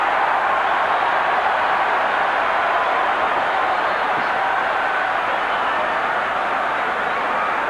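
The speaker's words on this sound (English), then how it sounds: "the crowd responds to him" A boxing arena crowd during the Roy Jones vs. Richard Hall fight makes a steady, dense roar and murmur. It stays at a constant level throughout, with no single voice standing out.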